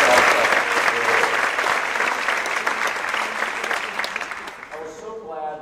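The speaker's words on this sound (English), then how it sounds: "So give yourself applause for the Lone Star Cup Award." An audience applauds at a school district event celebrating a Texas Lone Star Cup award, with loud, dense clapping from many hands that fades gradually over several seconds.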